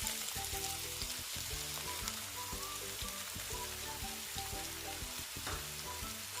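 Three medium sliced onions hit hot oil in a pan for pepper chicken, giving a close, steady crackling sizzle with bursts of spattering and the knock and scrape of stirring throughout.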